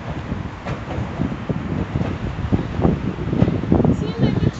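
Strong wind blows by the Danube River near Buda Castle, a rough, gusty rumble buffeting the microphone beneath people talking close by.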